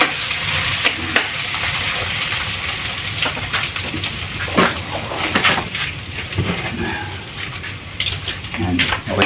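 Ginger, garlic and onion sautéing in very hot oil for crab adobo, a steady crackling sizzle with scraping stirs and occasional louder pops, close up and continuous.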